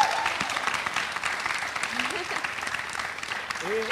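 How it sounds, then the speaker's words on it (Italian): An audience at a comics festival award ceremony applauds a new jury member of the Premio Bartoli, with continuous dense clapping and brief voices rising over it near the start and end. "Quindi vi chiedo un applauso per il nostro nuovo giurato."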